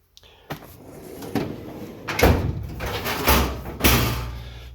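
A wooden cabinet door is pulled out and handled in a workshop, with several knocks, bumps and scraping thuds of uneven rhythm, close and fairly loud.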